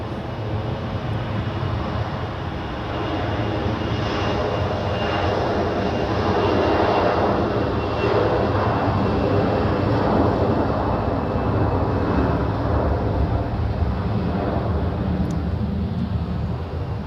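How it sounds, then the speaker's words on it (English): An Airbus A321 takes off from runway 28 at Zurich, its engines building from a steady roar into a louder, swelling rumble that holds strong, then eases slightly as the jet climbs away. "now we have another A321 on the runway, cleared for takeoff"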